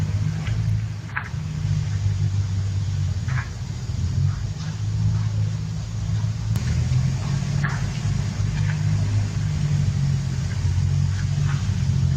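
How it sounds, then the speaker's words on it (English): A vehicle engine hums in a low, steady rumble as it drives around, continuous and fairly close, with a few faint clicks and no talk. "So you can kind of hear that those engines sound the same, you know, as he's driving around."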